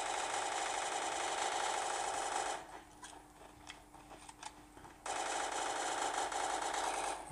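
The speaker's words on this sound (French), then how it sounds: "J'ai cru qu'on m'avait tiré dessus, on m'a tiré dessus." Gunfire in the video game Creative Destruction: a loud, steady rattle of rapid shots runs through most of the clip, dropping out for about two seconds midway before resuming just as dense.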